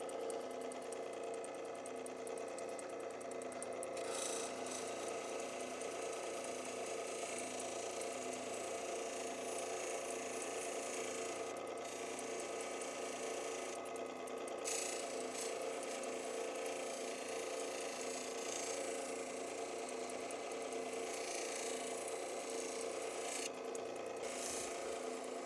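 A 3000-grit sanding wheel works an Oregon sunstone hummingbird carving, giving a steady, close whirring and rubbing drone with brief scraping swells as the stone is pressed to the wheel, with no talking.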